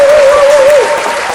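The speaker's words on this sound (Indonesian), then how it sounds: "Mana tepuk tangannya?" Loud crowd applause greets a guest on stage at an Indonesian pro-audio event, a dense wash of clapping with a held tone running through it, easing off near the end.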